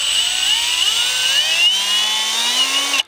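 Milwaukee M18 hammer drill, model 2997-22, fitted with a 5/32 bit, spinning up with a rising whine that climbs in pitch for about three seconds, then cuts off abruptly.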